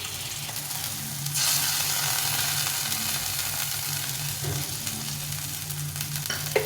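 Ginger, cumin, chili and garlic paste frying in a pan, a loud close sizzle that swells sharply as the paste hits the oil and then holds steady, with a faint stir near the end.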